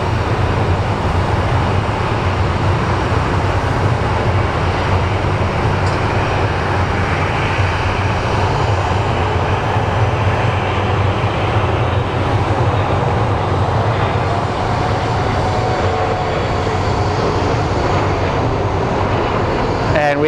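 A Boeing 737 taxis at Phoenix Sky Harbor airport, its jet engines giving off a loud, steady roar and whine that holds unbroken and close throughout.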